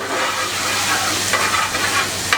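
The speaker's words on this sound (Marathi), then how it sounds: "कांदा टाकते. त्यानंतर कांदा येतोय. कांदा व्यवस्थित फ्राय करून घेतला जाईल" Onion frying in a pan for Malvani mutton curry in a restaurant kitchen, a loud, dense, steady sizzle with occasional stirring scrapes, close up and without talking.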